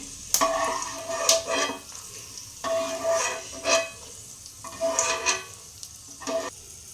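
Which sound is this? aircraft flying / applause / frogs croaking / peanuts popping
peanuts popping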